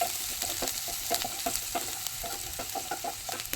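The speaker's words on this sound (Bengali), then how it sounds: "লঙ্কা কুচিগুলো হালকা ভেজে নেবো" Chopped green chillies fry lightly in hot oil, giving a steady close sizzle with repeated sharp clicks and scrapes of stirring throughout.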